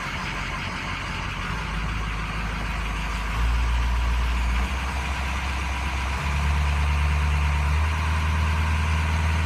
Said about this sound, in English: What I'm going to do is I'm going to go ahead and kick the RPMs up.